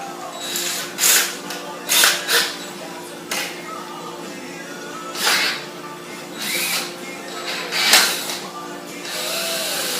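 Power drill boring a 1/2 inch pilot hole for a kayak fishing rod holder: a high whirring bite that comes in repeated short bursts, close and fairly loud, with brief pauses between passes.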